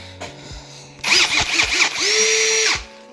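A power drill is used while fitting new speakers and adapter rings in a Mercedes, with faint clicks, then a few short whirring bursts that rise and fall, followed by a longer steady whine before stopping.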